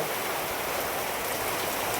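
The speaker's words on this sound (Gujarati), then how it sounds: "લાઈવ વરસાદ ચાલુ છે મિત્રો, પવન સાથે વાવાઝોડું બધું." Heavy night rain driven by wind in Lathidad village in Botad district, Gujarat, a steady, loud, unbroken hiss of falling water with no voices.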